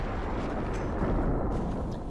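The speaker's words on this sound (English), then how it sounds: "Some particularly well-aimed mortar fire, too." Mortar fire explosions in the game Guild Wars 2 at Stonemist Castle come as dense, rumbling blasts and booms, loud and continuous across the short stretch with no voice over them.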